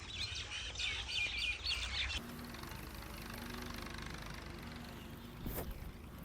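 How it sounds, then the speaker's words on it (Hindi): Many birds chirp at evening in a village, a busy layer of high twittering that is loudest in the first two seconds and then drops back behind a low engine-like hum. "इस साइड पे परिंदों का शोर काफ़ी ज़्यादा है।"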